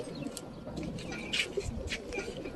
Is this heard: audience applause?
no